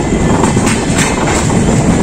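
Steady loud rumble and rush of the Konkan Kanya Express heard from inside a 2-tier AC coach between Madgaon and Mumbai CSMT, a continuous broadband roar with faint wheel clatter and no talk.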